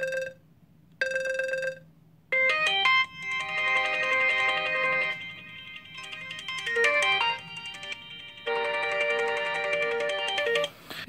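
Several ringtones play one after another from an HTC U11 smartphone speaker: short repeated electronic beeps, then bright melodic chiming patterns with brief gaps between tunes. The sound is close and clear, with no voices.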